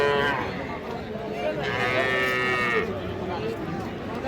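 Young bull calves moo loudly at a busy cattle market, with drawn-out, close bellowing calls rising over a murmur of crowd noise and background chatter.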